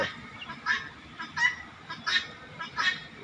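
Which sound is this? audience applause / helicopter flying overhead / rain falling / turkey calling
turkey calling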